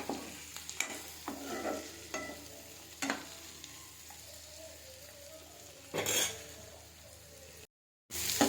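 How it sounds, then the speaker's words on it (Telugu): Chicken gizzards fry as turmeric is stirred in, a low steady sizzle punctuated by scraping strokes and spoon clinks against the pan, nearby and fairly quiet, with a brief dropout near the end. "పసుపు కలిసే వరకు కలుపుకుందాం"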